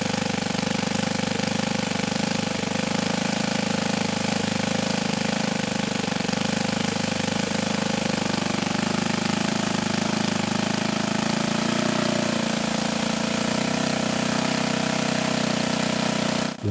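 An OS FS-91 Surpass four-stroke model engine running at idle, a loud steady close drone with slightly wavering pitch as the revs creep upward, no talking.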